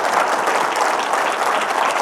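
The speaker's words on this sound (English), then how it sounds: "Please join me in a big round of applause for our keynote speaker, Raghu Belur" Dense, steady applause from a large keynote audience, sustained evenly throughout with no pauses.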